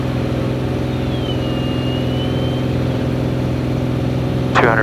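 Steady, loud drone of a Beechcraft A36 Bonanza piston engine at full climb power, harmonic hum filling the cockpit continuously, with a brief higher whine near the end.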